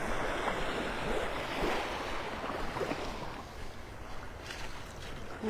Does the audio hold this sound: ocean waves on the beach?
yes